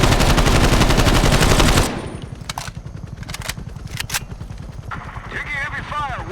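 Heavy automatic gunfire in the video game Call of Duty Black Ops Cold War roars loud and continuous for about two seconds, then gives way to a rumbling engine with scattered sharp bursts, as a voice talks over it.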